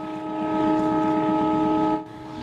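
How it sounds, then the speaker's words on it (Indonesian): A passing train sounds its horn as it slows on the line near the Cisomang bridge in Bandung: one loud, steady, harmonic blast lasting about two seconds, then cutting off, with no talk. "kereta tersebut membunyikan klakson dan memperlambat lajunya"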